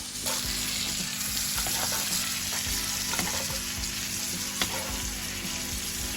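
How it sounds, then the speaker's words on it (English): Butter cooking down in a hot pan alongside an entrecôte steak makes a constant close sizzle, broken by a few faint clicks and stirring scrapes. "we're going to be cooking down the butter"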